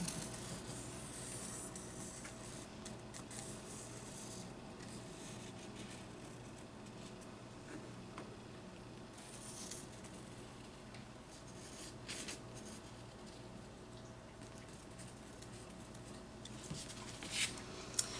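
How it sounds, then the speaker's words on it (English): A mechanical pencil traces around an object on paper for a craft decoration, giving quiet, continuous scratchy scribbling and rubbing close by, with occasional small taps and shifts. "I like using a mechanical pencil because you can get right there at the edge of the object that you're tracing"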